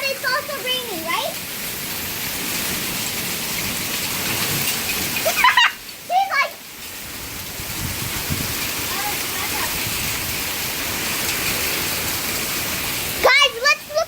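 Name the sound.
rain falling outside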